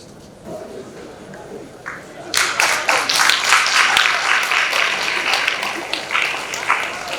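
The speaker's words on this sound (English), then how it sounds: "Can we have a big round of applause?" After a short quiet stretch with faint talk, the audience at a World Cotton Day panel discussion breaks into full applause that swells quickly and continues strongly for several seconds.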